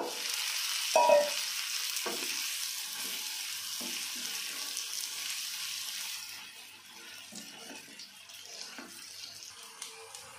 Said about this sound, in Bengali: আমি এখন দিয়ে দেব ভেজে রাখা কচুগুলো